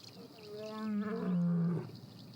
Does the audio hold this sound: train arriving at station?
no